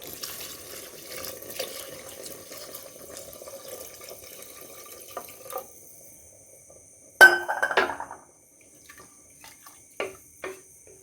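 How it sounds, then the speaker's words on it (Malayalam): Water pours into a pressure cooker pot holding a mix for chicken rice porridge, a light trickling splash for several seconds, then a louder brief gush and a few clinks and drips before it settles. "അപ്പം വേകാൻ ആവശ്യത്തിനുള്ള വെള്ളം ഒഴിച്ചു കൊടുക്കുക"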